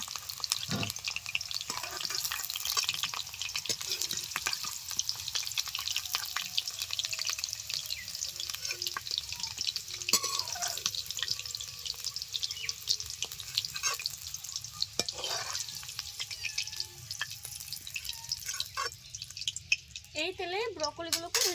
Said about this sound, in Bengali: হালকা করে একটু ভেজে নেব ভেজে নিয়েছি তেল ধরে তুলে নিচ্ছি